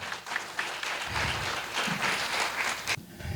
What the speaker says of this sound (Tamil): அவங்களுக்கு ஒரு கரகோஷம் கொடுத்து அவங்கள வாழ்த்தலாம்.